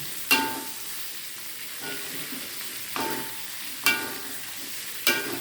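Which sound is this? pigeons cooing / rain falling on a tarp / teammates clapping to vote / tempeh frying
tempeh frying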